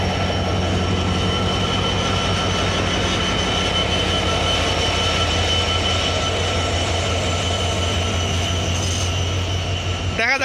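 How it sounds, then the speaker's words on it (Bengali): Passenger train on the Rajshahi–Chilahati route pulling away, a steady loud rumble of wheels and locomotive throughout with a rising squeal near the end. "আওয়াজ শুনতে শুনতে কিন্তু ট্রেনটা ছেড়ে দিল"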